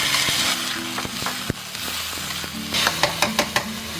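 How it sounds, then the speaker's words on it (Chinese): Black rice is stir-fried in melted lard in a wok, a continuous sizzle under scraping strokes of the spatula, closing with a quick run of sharp metallic clinks and scrapes. "闻到香味以后，我们就把这个黑米给它倒进去"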